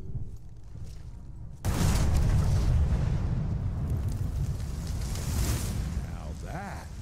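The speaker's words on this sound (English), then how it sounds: "Now that is how you shape an explosion." A massive explosion erupts in the Evil West video game, a sudden loud boom that rolls into a long, dense rumble with crackling debris before fading slightly.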